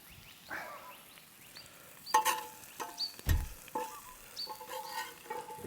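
A burger with bacon sizzling on campfire coals, a soft, steady frying hiss with occasional pops and crackles, quiet and close with no talking.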